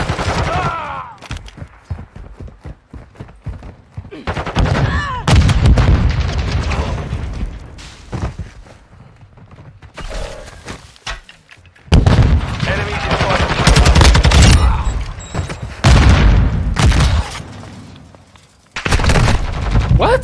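Rapid gunfire bursts and booming shots from a Call of Duty Hardpoint ranked match, loud and repeated throughout, with automatic weapon fire coming in dense volleys separated by brief lulls.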